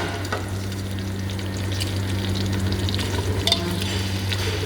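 Dried red chillies frying in hot oil with curry leaves, a steady close crackling sizzle under a low continuous hum, alone with no talk.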